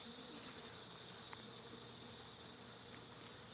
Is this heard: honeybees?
yes